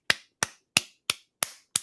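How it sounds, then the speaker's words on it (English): Six sharp hand claps from one person, evenly spaced about a third of a second apart, close and crisp with quick decays and no voices. "This is not actually how I clap."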